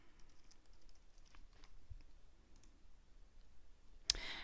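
Computer mouse and keyboard clicks while logging into a course website: scattered faint clicks and taps through a quiet room, ending with one sharp, louder click near the end.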